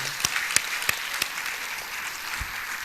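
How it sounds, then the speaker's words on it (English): Audience applause at an awards night, a steady wash of clapping with a few sharper individual claps standing out, moderately loud and continuous throughout. "A big round of applause for everyone."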